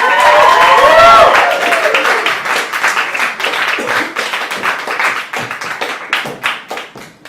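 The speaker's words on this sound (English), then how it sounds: "Please clap all the way to the stage for our feature Wonder Dave." A comedy club crowd at a Rain City feature show applauds as comedian Wonder Dave takes the stage. Dense, steady clapping runs throughout, with brief whoops and cheers near the start before the clapping settles and thins slightly.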